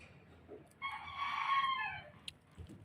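A rooster crows once, a clear harmonic call lasting over a second, heard close at a market where a rooster and a black duck are being bought, with quieter background noise and no talk.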